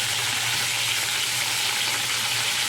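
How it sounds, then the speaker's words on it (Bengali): Pieces of fish sizzle loudly and steadily in hot oil in a frying pan as they are turned. The close, continuous crackle carries no talk. "মাছটা ভালো করে উল্টো পাল্টে ভেজে নেবো"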